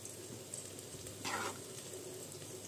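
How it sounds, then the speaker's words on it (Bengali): Three small spoonfuls of sugar are stirred in a hot pan as they begin to melt, giving a faint, steady low sizzle with one brief louder scrape of the spoon partway through. "চিনিটা দিয়ে একটু নাড়িয়ে নিতে হবে।"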